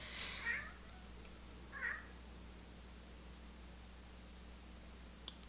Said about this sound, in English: That was my boy cat